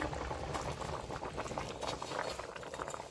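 A catla fish curry with spinach, potato and eggplant bubbles steadily in a pot as fish pieces go in. There is a dense, even simmering hiss with soft popping, close and moderately quiet.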